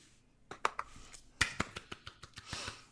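A few sparse, sharp hand claps ring out close by during a live online show, scattered irregularly over a few seconds against a quiet room.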